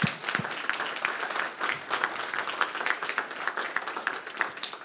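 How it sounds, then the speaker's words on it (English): Audience applause after a talk at an evening lecture event, steady dense clapping from a seated crowd that carries on at an even level throughout, fairly close and loud with no speech over it. "will you join me in another round of applause for Dorian?"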